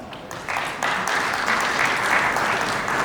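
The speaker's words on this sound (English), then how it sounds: "Can we give a round of applause for that?" Applause from a conference audience at a tech event in Lagos rises and settles into a steady, dense clapping that fills the room for a few seconds, with no speech on top.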